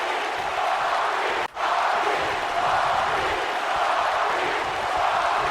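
Arena crowd in the WWE 2K wrestling game roaring steadily after a big rock bottom onto a championship belt, a dense continuous wash of cheering with one brief dip partway through.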